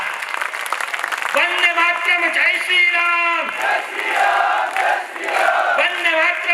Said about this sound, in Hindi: गड़गड़ाती हुई आपकी तालियां